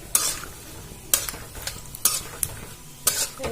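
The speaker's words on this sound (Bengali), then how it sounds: "তেলটা গরম হয়ে গেছে আমি এর মধ্যে চেনা বাদাম ভেজে নেব" Peanuts fry in hot oil in a village kitchen, a constant crackling sizzle broken by sharp, repeated stirring scrapes about once a second, close and fairly loud, with no voices.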